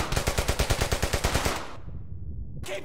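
Rapid automatic gunfire in the World War II shooter Brothers in Arms: Hell's Highway, a loud, close burst of about a dozen evenly spaced shots that stops abruptly, leaving a fading echo before a brief new sound.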